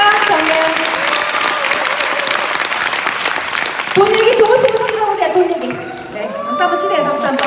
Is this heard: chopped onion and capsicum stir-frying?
no